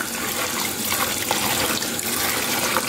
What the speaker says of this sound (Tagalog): so hugasan muna natin ang ating mani na ating ilalaga.